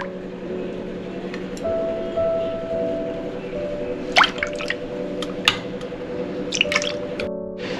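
Tangy pani puri water is poured into a dish of stuffing, with a few splashy drips and gurgles over a steady background hum.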